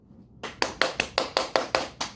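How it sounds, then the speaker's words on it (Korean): Eight sharp, evenly spaced hand claps, close and loud, rising out of near silence in a steady rhythm. "박수 소리 들리죠?"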